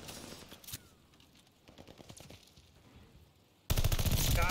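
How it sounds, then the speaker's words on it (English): Enemy strafing gunfire in the video game Call of Duty during a Hardpoint match: scattered distant shots at first, then a sudden loud, sustained burst of fire near the end. "Hostiles are strafing us"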